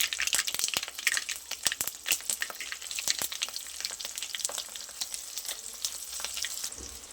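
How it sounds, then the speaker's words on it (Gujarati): Stuffed green chilies dropped into hot oil with crackled mustard seeds and asafoetida over a lowered flame, giving a steady, close sizzle with dense popping and spattering throughout. "હવે એક એક કરીને આપણે મરચાંને ઉમેરી દઈશું."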